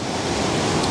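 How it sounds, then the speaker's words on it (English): Waves battering the shore on a prehistoric coastal landscape, a loud, continuous close roar of surf and spray without break, with wind buffeting the microphone and no voices. "continual battering of water."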